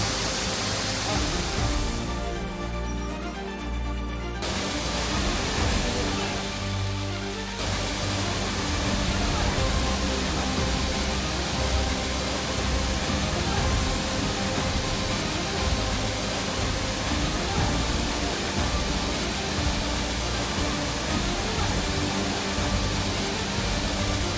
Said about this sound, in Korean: 물은 바위를 타고 실처럼 흘러내리며 아래로 퍼져나갑니다